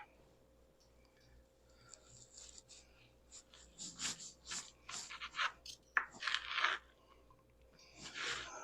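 Knife cutting through a smoked, bacon-wrapped supreme pizza fatty with crisped bacon, giving several close crunchy, crackling bursts in uneven succession, fairly quiet overall with some breathing noise.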